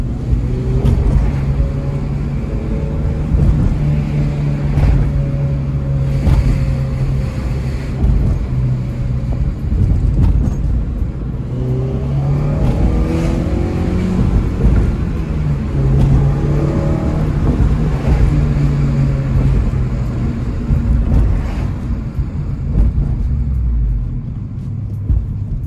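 A car engine with a new K-tuned air intake rumbles loudly up close, with repeated revs rising and falling over a deep, steady drone.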